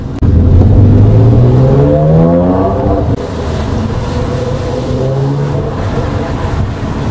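A Porsche 997 Mk1 with a sport exhaust, valve open, revs and holds a deep, throaty drone with a rising pitch, then settles into a steadier, lower rumble nearby.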